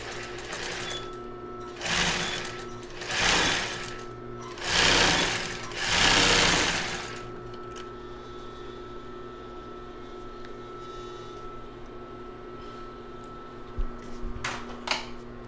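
A sewing machine stitches a children's bra at a 3.5 stitch length with a medium presser foot. Four loud, close bursts of rapid stitching are each separated by short pauses, then a steady motor hum remains with a couple of faint clicks.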